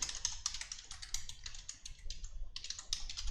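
Quiet, close typing on a computer keyboard while writing JavaScript code, a run of quick irregular key clicks with a short pause before a final burst.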